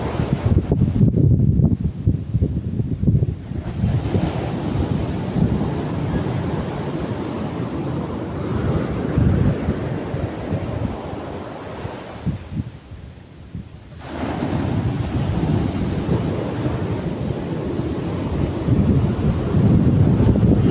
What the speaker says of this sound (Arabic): الموج بدا كيطلع، غادي يكون الموج من بعد الظهر ان شاء الله.